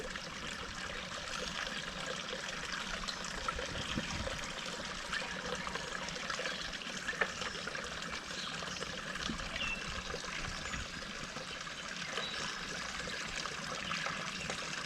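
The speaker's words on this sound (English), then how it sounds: "Hopefully you can hear that water trickling in the background." Spring-fed water trickles and cascades into a garden pond, a steady, even wash of splashing that runs unbroken at moderate level for the whole stretch, with no voices.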